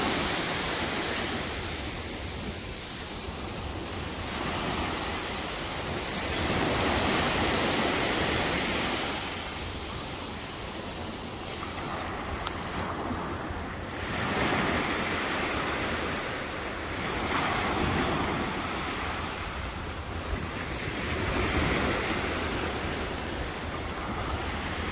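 Waves of the Mediterranean Sea roll onto the shore at Caesarea, a broad steady surf wash that swells and recedes in slow cycles, with some wind noise and no talk.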